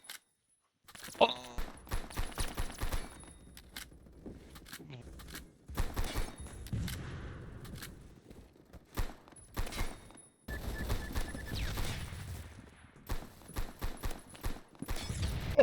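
Gunfire in the online shooter game Phantom Forces, bursts of rapid shots and single cracks coming in clusters between short silences, with a player talking over parts of it.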